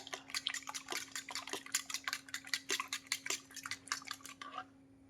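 Rapid, rhythmic clinking of a utensil against a bowl while beating eggs, steady whisking strokes for about five seconds, then stopping, with a faint hum underneath.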